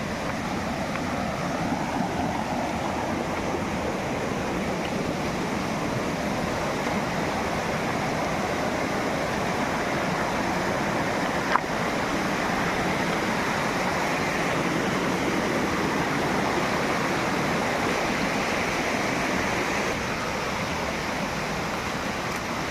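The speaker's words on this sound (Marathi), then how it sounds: "हा रस्ता ओढ्यातून जावं लागणार आहे" A monsoon stream rushes steadily and loudly nearby, a continuous broadband flow with no pauses, like water running over rocks.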